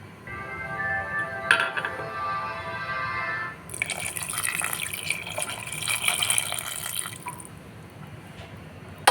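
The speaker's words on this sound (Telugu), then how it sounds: "ఇంకొంచెం వాటర్ వేసుకున్నాం." Water is poured into a pot of sambar with eggplant pieces cooking in it, a brief splashing pour after a quieter stretch, close and moderately faint.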